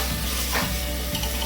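Chicken sizzles in hot white oil in a pan with a dense, constant frying hiss, while a few dull stirring strokes knock through it at close range.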